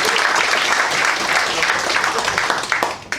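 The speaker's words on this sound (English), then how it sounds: "Round of applause for Jack, ladies and gentlemen." Audience applause at a live comedy show, a dense, steady wash of clapping from a full room that holds for about three seconds before thinning at the end.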